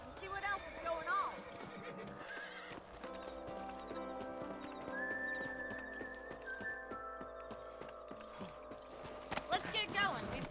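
Horses in the Red Dead Redemption video game whinny and clop their hooves on open ground, set under steady in-game music and background sound.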